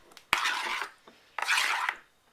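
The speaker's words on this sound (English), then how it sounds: "the key here again is to mix it up all nice and neatly" Diced bruschetta toppings tossed in a bowl, two bursts of wet clattering and scraping about a second apart, close and fairly loud, with no talking.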